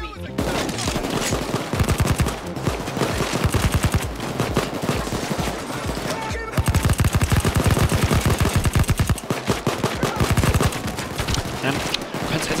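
Dense automatic gunfire in the video game Payday 2 rattles in long rapid bursts, loud and nearly continuous, with brief breaks between volleys.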